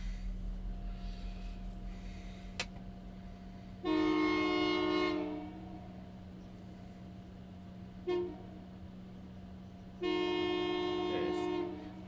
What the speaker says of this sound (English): The choo-choo's coming through.